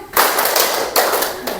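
A class of children clap their hands together in sharp bursts while counting along with their teacher in a morning classroom exercise, with rhythmic group claps, one set near the start and another partway through.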